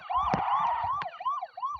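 A modified police car's wailing siren in the video game Car Simulator 2, heard loud and steady with repeating rising and falling sweeps and no voices over it.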